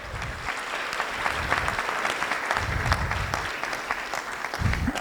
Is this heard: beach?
no